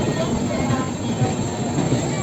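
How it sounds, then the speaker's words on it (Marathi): A train pulls into a busy station platform, its carriages rumbling and clattering steadily with a faint hiss and wheel noise, close by and loud, while people talk in the background. "ट्रेन आले."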